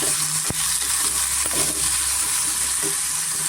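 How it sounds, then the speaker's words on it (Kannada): Ridge gourd pieces with salt fry in hot oil over a medium flame, giving a loud, steady sizzle throughout with a few sharp scrapes and knocks of stirring. "ಚೆನ್ನಾಗಿ ಎಣ್ಣೆನಲ್ಲಿ ನಾವು ಫ್ರೈ ಮಾಡ್ಕೋಬೇಕಾಗುತ್ತೆ"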